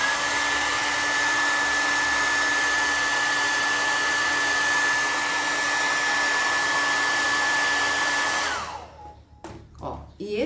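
A hair dryer drying wet paint on an artwork, a loud steady whine with a constant tone that runs for about eight seconds, then shuts off and winds down.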